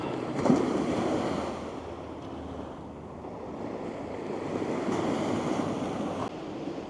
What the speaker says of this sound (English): The sea is so calm, we've hardly got any wind.